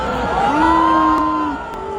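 A large concert crowd boos loudly, a sustained mass of voices with long drawn-out tones that swell and then ease off slightly.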